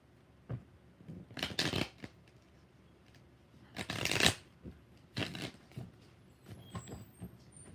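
Tarot cards shuffled in several separate bursts of riffling, close and fairly quiet, with short pauses between each shuffle and no talking.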